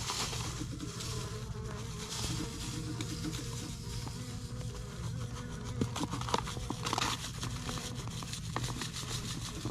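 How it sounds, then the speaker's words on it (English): Honey bees crowd inside a hive in Alabama during winter, producing a dense, steady buzzing drone heard up close but quietly, with faint scattered clicks and rustles and no talk. "Lots and lots of bees up in there."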